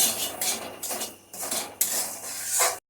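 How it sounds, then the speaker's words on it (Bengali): Semolina and grated coconut stirred in a pan on medium heat: a spatula scrapes and clinks against the metal again and again, close and fairly loud, with a light sizzle underneath and no voices. "নারিকেল সহকারে মিলিয়ে এখন অল্প আছে ভাজতে থাকবো।"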